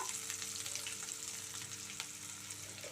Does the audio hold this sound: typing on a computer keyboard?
no